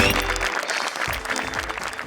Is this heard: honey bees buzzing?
no